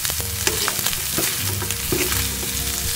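Okra frying in a pan with ground pork gives a close, continuous sizzle, broken by scraping and clattering stirs.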